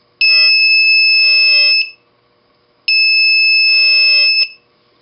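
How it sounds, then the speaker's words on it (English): An electronic buzzer driven by a touch sensor circuit sounds two loud, steady, shrill tones of about one and a half seconds each, separated by a silent gap. "we can latch our buzzer on."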